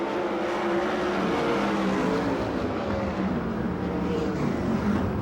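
Sprint cars race in a pack on the dirt oval at Perris, California, giving a dense, continuous, loud roar of engines close by with no break.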